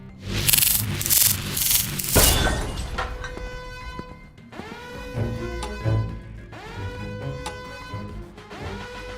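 Harsh grinding and rubbing noise opens the clip, then gives way to layered high mechanical whines and tones of a laser drill, loud and continuous.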